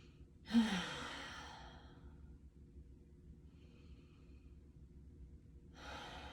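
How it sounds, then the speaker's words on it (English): Slow, deep breathing during a guided tapping meditation, with one loud exhale at the start that fades over a couple of seconds, a quiet stretch after it, and another breath beginning near the end. "Take 3 deep inhales through your nose, exhales out your mouth with your eyes closed."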